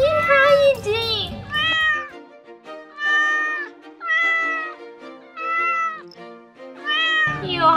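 A cat meows repeatedly in a series of drawn-out, rising and falling calls, close and fairly loud, with brief gaps between them; a person speaks softly near the start.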